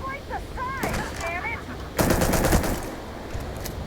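Tombstone weapon firing in Starfield, a burst of gunfire cutting in at mid-clip after a stretch of other game sounds, loud and dense for about half a second before fading.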